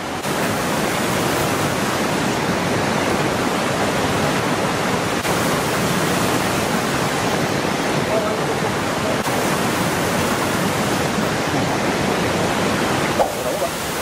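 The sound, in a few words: waterfall in Bali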